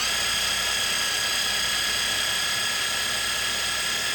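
A socket spinning on a power drill, scrubbed with steel wool soaked in penetrating oil such as WD-40 or PB Blast during cleanup of an S-K tool set, makes a steady loud whirring grind with no break.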